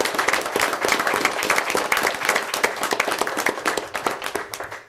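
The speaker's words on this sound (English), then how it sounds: "I'd like to give them another round of applause" Sustained round of applause from an audience at a township committee meeting, dense, steady hand clapping that carries on for several seconds with no voices over it.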